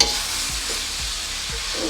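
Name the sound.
soy sauce sizzling in a hot pan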